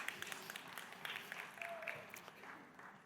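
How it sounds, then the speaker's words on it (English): Salespeople in a business conference audience clap together, a moderate, steady patter of many hands with a brief tonal squeak partway through, continuing without a break. "The sales guys are clapping."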